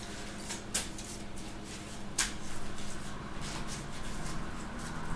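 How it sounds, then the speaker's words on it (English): Sleeved Marvel Champions game cards given a bit more hand shuffling at a table, with two crisp snaps followed by a low, steady riffling rustle, close and without talk. "and then I'll shuffle this a little bit more"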